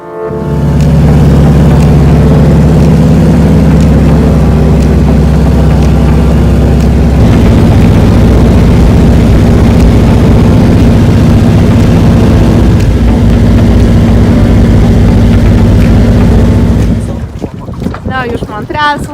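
A seaplane's loud, steady engine drone in Canada with a deep low hum holds for most of the stretch, then drops away near the end as voices come in.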